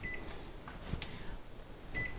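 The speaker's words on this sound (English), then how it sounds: "Let me set my timer." A kitchen timer set for nine minutes of pasta cooking gives a few short, high, quiet electronic beeps spaced apart, with a light click near the middle and no talk.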